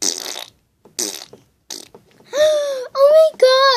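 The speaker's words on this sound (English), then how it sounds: "did you just fart?" A few short, raspy fart-like blurts are followed by squeaky, whiny voices, close and loud.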